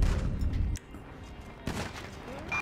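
A shotgun blast in a video game, one heavy boom at the start cutting off sharply, then a quieter second shot partway through, with some game sounds after.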